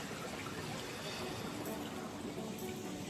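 Water rushes at the Kankada Jhara dam waterfall near Banki in Cuttack, Odisha, a steady broad roar heard from a distance, quiet and unbroken.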